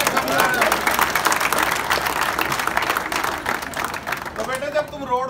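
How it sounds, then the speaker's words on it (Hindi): A comedy show audience at the Bhamashah State Data Center claps loudly and densely, the applause running throughout with voices mixed in before it thins out near the end. "जोरदार ताली बजाओ यार।"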